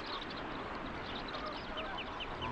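A dense flock of flamingos calls in an African lagoon, a continuous honking, goose-like chatter with many overlapping voices at moderate distance and no speech.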